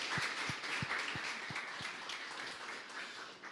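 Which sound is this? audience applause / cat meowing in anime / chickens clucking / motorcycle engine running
audience applause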